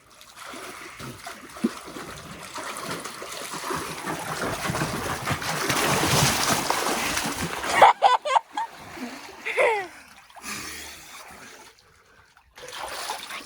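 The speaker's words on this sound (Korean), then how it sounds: "개미 물에 빠지다" Water splashes and sloshes in a swimming pool, a steady churning wash building for several seconds before breaking into irregular splashes and drips, close by, with voices talking over parts of it.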